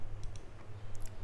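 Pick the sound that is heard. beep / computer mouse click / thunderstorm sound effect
computer mouse click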